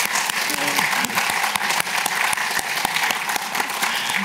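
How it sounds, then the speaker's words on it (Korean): A church congregation in a Korean church service applauds, loud, dense and continuous clapping filling the room for about four seconds, with a voice faintly underneath. "우리 박수로 호국보훈을 하겠습니다."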